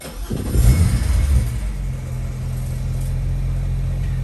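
A BMW 335i engine with an N54 motor turns over and catches from cold, revving briefly before settling into a low, steady idle, heard up close with no talking.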